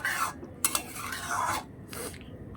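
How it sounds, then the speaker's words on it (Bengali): A spoon stirs flat beans and prawns in a pan of curry, making a few scraping, clattering strokes with only faint sizzling in between. "এটাকে ভালো করে নাড়াচাড়া দিতে হবে"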